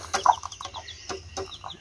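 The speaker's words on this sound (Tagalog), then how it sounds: "bumaba na yung inahin, bumaba na rin yung dalawang sisiw" A Joloano x Shamo hen gives short, close clucks on a small farm, mixed with thin, high peeps from her two newly hatched chicks in an uneven, scattered rhythm.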